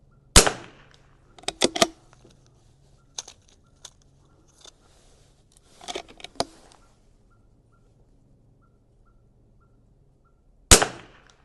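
A Vudoo V22S .22LR rifle fires sharp, loud cracks at a 100-yard range, several shots spaced a few seconds apart with faint clinks between them and a final crisp report near the end.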